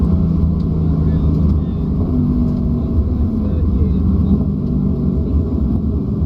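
Race car engine on a track, a loud, close, steady roaring drone as the driver throttles up through a corner, heard from inside the car with a voice speaking over it.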